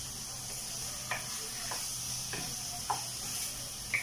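Onions soften in a frying pan under a low, steady sizzle, with a few soft scraping stirs at intervals and no one talking.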